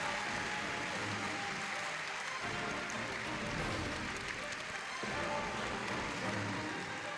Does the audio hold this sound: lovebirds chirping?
no